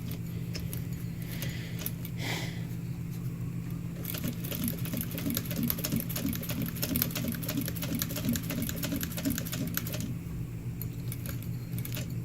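A sewing machine stitches through a fabric bifold wallet in a near, steady run of needle strokes. A steady motor hum sits underneath, with brief pauses at the start and end around a short back stitch.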